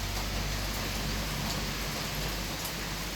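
Steady, even rain hiss as a rainstorm eases off fills the scene at a constant level, a soft wash of falling drops with no distinct patter bursts and no voices.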